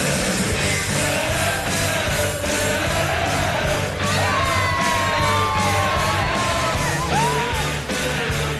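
Large darts crowd at the Unibet Masters first round in Milton Keynes, a sustained loud roar of cheering, yelling and whooping with shrill individual shouts rising above the dense, continuous crowd noise.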